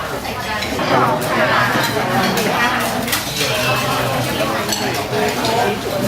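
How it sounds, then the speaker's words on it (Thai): Rice is scooped and dishes clink onto a table, with steady clatter of plates, pots and utensils and people talking nearby. "ตักข้าว ใครตักข้าวขึ้นโต๊ะ"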